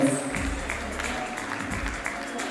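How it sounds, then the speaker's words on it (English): Applause from a crowd at an awards and dinner night, a steady wash of clapping that holds for a couple of seconds at moderate loudness, with some tonal background sound underneath. "We can do it better with a round of applause as we welcome them."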